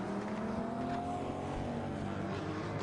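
GT race cars, including an Audi and a Ferrari, run at Magny-Cours in an endurance race. Their engines make a steady, distant roar, with a rising and falling engine note as cars pass.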